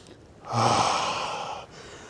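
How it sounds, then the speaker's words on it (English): A slow, deep breath drawn in and let out during a guided mobility workout, a soft airy rush swelling and holding for about a second before easing off, heard alone without talk. "Breathe in and out, in and out."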